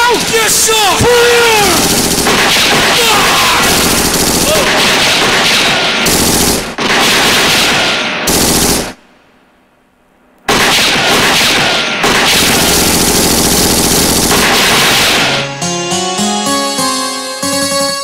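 Rapid bursts of gunfire sound effects ring out during a Manipuri Shumang Leela stage performance, loud repeated shots and booms filling most of the stretch with a brief silent gap near the middle, then sharper tonal bursts at the end.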